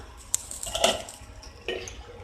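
The lid comes off a pan of spicy okra masala fry: a few faint metallic clinks of lid against cookware, close by, with a soft bump midway and a low sizzling hiss beneath.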